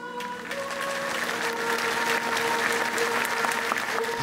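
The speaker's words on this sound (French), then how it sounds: "J'ai été applaudi" A crowd at a rosary pilgrimage applauds the speaker, with sustained, dense clapping from many hands filling the space alongside a faint tonal hum.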